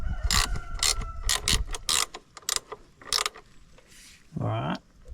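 A 17 mm wrench tightens the nut on an Altrider extended kickstand of a 2024 Honda CRF300L, making close, quick runs of ratcheting clicks in short bursts, followed by a brief creaking scrape near the end.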